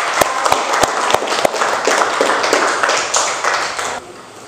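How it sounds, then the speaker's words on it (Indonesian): Classroom applause as a teacher asks the pupils to clap, a dense burst of hand claps with a few sharp individual claps standing out, fading near the end. "Tepuk tangan dulu."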